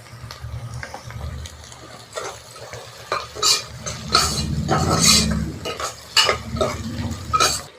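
Mutton curry masala being sautéed and stirred in a pan, with a spoon scraping and clinking against the metal over a steady low sizzle, stirring strokes coming in uneven bursts, close and fairly loud.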